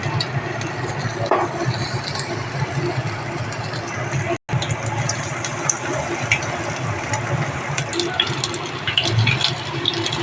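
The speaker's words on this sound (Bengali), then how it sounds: "এইদিকে দেখো আমাদের তেলও গরম হয়ে গেছে। এক এক করে এবারে মাছগুলো দিয়ে দেব।" Batter-coated lotte fish pakoras sizzling in hot oil, a continuous dense crackle and bubbling hiss close by, with a brief dropout partway through and then the frying carries on.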